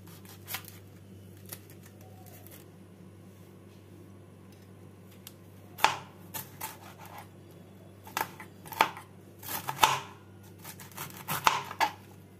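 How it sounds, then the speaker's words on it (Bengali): A small cabbage being chopped with a knife, quiet at first and then a burst of sharp close cuts on a board arriving in uneven clusters over a low background hum. "বাঁধাকপিটাকে ঘন্টের মতন কেটে নেব"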